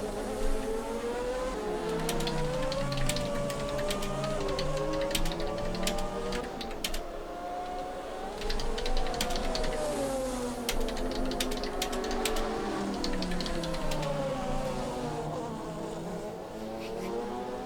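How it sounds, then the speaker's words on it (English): Ferrari V12 race car engine in a GT1 sim racing game at Virginia International Raceway, a steady droning roar with rising and falling pitch sweeps as gears shift, several cars blending at moderate distance, no talk. "He's got another one of those wonderful Ferrari V12s under his bonnet."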